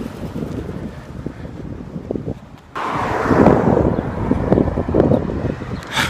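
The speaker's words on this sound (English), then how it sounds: "I can feel the wind going past my hand" Wind buffets a microphone outdoors, a loud, low, rumbling roar that swells sharply about halfway through and stays strong, with no voices.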